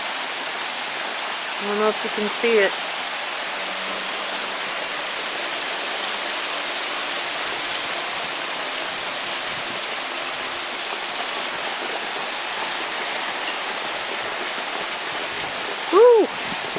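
Big hail pelting down in cold, windy weather in Southern California, a steady dense broadband hiss of stones striking and melting on surfaces, with a voice speaking briefly over it.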